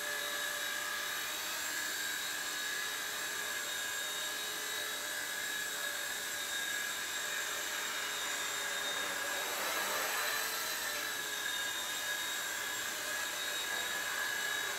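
A T-REX 100X radio-controlled helicopter in flight gives a constant high, thin rotor whine with tonal overtones. It swells slightly midway and is heard alone at a moderate distance.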